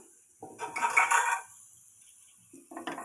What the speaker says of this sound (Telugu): మ్యాష్ చేసి పెట్టుకున్నాం కదా పొటాటోస్ని దాన్ని వేసేసి బాగా కలపాలండి